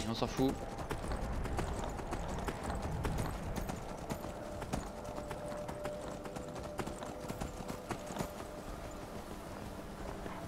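Horse hooves clip-clop steadily in Skyrim, a close, continuous trotting rhythm on a path, while someone talks over the hoofbeats throughout.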